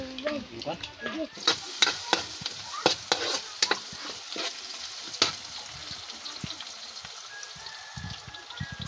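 Garlic and onion are sautéed in a pan, with sharp clinks and scrapes of stirring over a soft, steady sizzle, the stirring thinning out toward the end.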